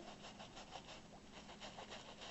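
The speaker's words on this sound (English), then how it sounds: "I'm going to go in with the sandpaper as well, and I'm just going to go over it and just kind of rough up the holes" Sandpaper rubbed over the frayed holes of a denim jean jacket makes a steady, close scratchy rasp. Its rhythmic back-and-forth strokes continue without pause.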